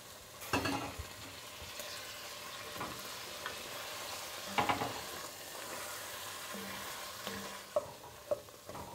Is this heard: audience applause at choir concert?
no